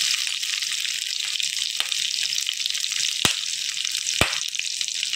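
Onions frying in a pan give a steady, bright sizzling hiss throughout, broken by a couple of sharp clicks or taps, with no talking.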